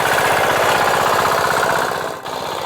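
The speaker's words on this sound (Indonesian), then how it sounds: "Setelah menyiapkan mesin traktor miliknya, kami berangkat menuju sawah yang akan dikerjakan pada siang itu." Farm tractor engine running steadily and loudly on the way to a rice field, a continuous rattling, knocking chug with a brief dip near the end.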